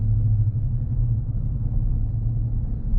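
Low, steady rumble of a car engine under light throttle in full sport mode, heard from inside the cabin as a constant drone without any sharp rise in revs.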